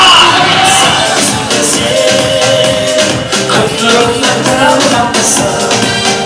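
Guests at a Kazakh engagement ceremony cheer, whoop and shout together, a loud, dense crowd roar of overlapping voices that lasts throughout with surges of yelling.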